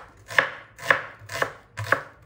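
Onions being finely chopped with a knife on a board, four crisp evenly spaced cuts about half a second apart, close and clear against a quiet background.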